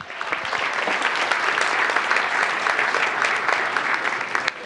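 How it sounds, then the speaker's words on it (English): Dense, loud audience applause at a town council meeting, continuous crowd clapping filling the room for several seconds without a break. "Big round of applause for Group 2."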